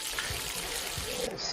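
Soy sauce poured into chicken curry in coconut sauce, heard as a steady close trickling stream under a kitchen background, with faint talk nearby.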